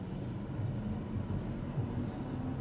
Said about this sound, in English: Let's get on the freeway and see the road noise.